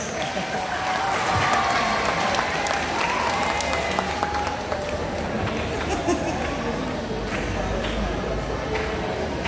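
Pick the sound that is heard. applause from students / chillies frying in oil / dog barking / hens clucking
applause from students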